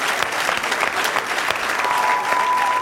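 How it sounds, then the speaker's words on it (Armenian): An audience claps steadily throughout, a dense, even applause heard up close with no talking over it. "շատ լավ, եկեք ծափարենք Ստեփանին"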